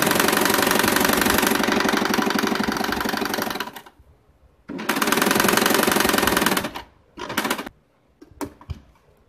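A sewing machine stitches leftover cloth for a bag in two long, loud, rapid runs, then a few short bursts of stitching separated by pauses, up close and without talk.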